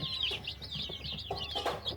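Kampung chicks in a cardboard box peep in high, overlapping chirps, one after another, over a low background hum.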